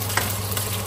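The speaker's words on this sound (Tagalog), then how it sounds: "Na prito-prito na natin siya." Food frying in a pan while being stirred, a dense close sizzle with a couple of brief scraping clicks, heard without talking.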